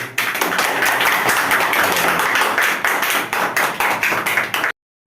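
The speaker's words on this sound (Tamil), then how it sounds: "கைதட்டுங்க" An audience at a temple festival for Mohana Krishna Swamy claps steadily, a dense run of hand claps at constant loudness that stops abruptly, followed by silence.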